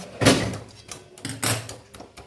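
A lid is set over a pan of vegetarian cabbage cooking on the stove. Two sharp, close clatters of metal on metal come about a second apart, with small knocks around them.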